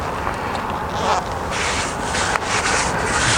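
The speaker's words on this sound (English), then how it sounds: "I'm just kind of rubbing against it so it sticks good" Hand rubbing tar paper against a window edge over a plastic fin, producing a continuous close scraping, brushing friction in short uneven strokes.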